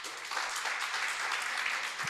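A church congregation applauds during a worship service, a steady, even wash of clapping from many hands, moderately distant and unbroken for about two seconds.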